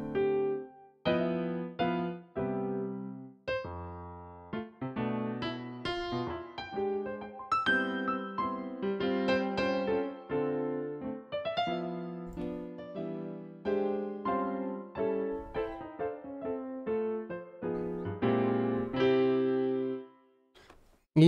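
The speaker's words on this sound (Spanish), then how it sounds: "Y ponen, por ejemplo, este Grand Piano." A grand piano instrument in FL Studio plays a lively passage of chords and runs, with notes clearly struck and decaying, heard alone at a moderate level with no talking.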